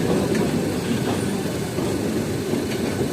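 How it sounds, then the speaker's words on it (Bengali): Kaviguru Express train arriving at Howrah Junction, a steady loud rumble of the wagons rolling alongside the platform for the whole stretch, with no voices over it. "প্যারালাল অ্যারাইভেল করছে আমাদের ট্রেন হাওড়া জংশন"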